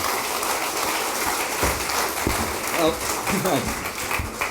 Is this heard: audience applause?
yes